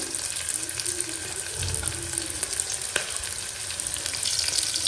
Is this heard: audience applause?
no